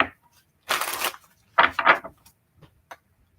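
Tarot cards are shuffled in close, crisp bursts: a long riffling rush, a pause, then two quick fluttering shuffles followed by a few faint taps as the deck settles.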